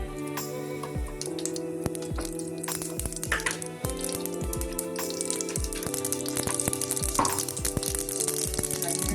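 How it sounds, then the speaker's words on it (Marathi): Mustard and cumin seeds crackle and pop in hot oil in a kadai, a busy sizzle with sharp repeated pops running steadily throughout, close up. "सर्वात आधी कढईमध्ये तेल टाकायचं आहे. ते गरम झालं की राई जिरा टाकायची आहे."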